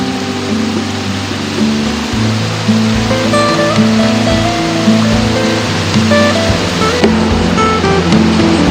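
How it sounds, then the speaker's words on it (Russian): Spring water bursts from the ground at the source of the Pokcha river, making a loud, continuous rushing roar. Sustained tonal layers and a faint background hum sit beneath the surge, and no one speaks. "Водный поток вырывается из-под земли в одном месте и в один момент превращается в реку"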